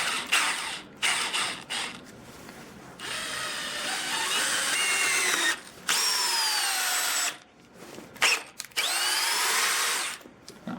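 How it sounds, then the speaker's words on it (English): A 12V hammer drill driving 3-inch deck screws, the motor whining and rising in pitch through several long bursts, with sharp stops and ratcheting clicks between runs, loud and close. "Will it drive in some screws? A couple 3-inch deck screws."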